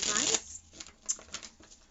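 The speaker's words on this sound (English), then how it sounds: "So I'm just going to go ahead and shuffle the deck" A deck of cards being shuffled at a tarot reading: a dense riffling flutter up close at the start, followed by scattered soft taps and flicks of the cards.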